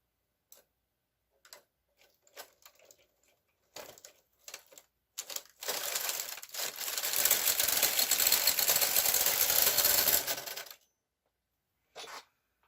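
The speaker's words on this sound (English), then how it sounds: "now we're going to knit across" A domestic knitting machine carriage pushed across a row of a balaclava: scattered clicks and taps, then a long rattling, clattering sweep for about five seconds that stops abruptly, followed by a final brief clack.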